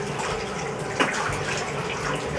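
Steady running water gushes over a soapy fursuit being rinsed during a bath after a furry convention, a continuous close wash with a brief splash partway through and no talking.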